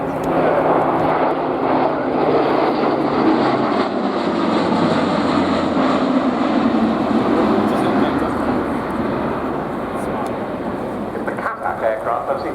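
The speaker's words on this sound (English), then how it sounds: "We're seeing the Luftwaffe aircraft now" A German Air Force Airbus A400M military transport aircraft in a flying display at RIAT 2024 drones with a continuous loud propeller-engine roar, slowly shifting pitch as it passes, while a commentator talks over it.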